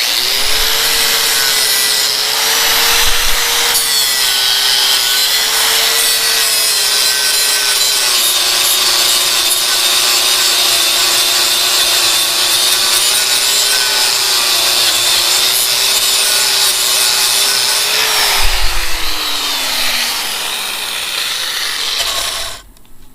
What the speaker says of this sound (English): it was able to run our DeWalt grinder